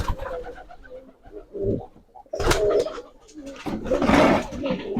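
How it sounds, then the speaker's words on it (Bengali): Large Indian Giribaz pigeons coo at a pigeon farm in several deep, throaty bursts with brief pauses between them, close and fairly loud. "এটা ইন্ডিয়ান একটা গিরিবাজ কবুতর বড় জাতের"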